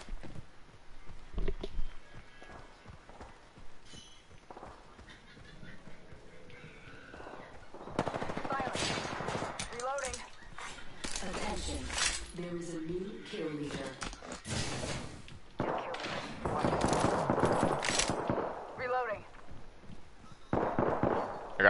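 Automatic gunfire in the battle royale game Apex Legends, bursts of rapid shots that thicken in the second half, with game effects and a voice talking over parts of it.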